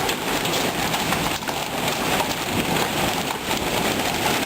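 Hail and rain from a severe thunderstorm pour down in a dense, steady roar, with a brief sharper crack partway through and no voices.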